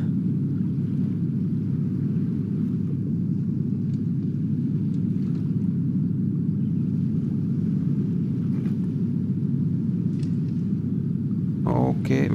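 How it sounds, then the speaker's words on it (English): A steady, loud low rumble of a boat engine running while saltwater trolling in Ultimate Fishing Simulator 2, droning evenly throughout, with faint higher noises near the end. "Stop the engine."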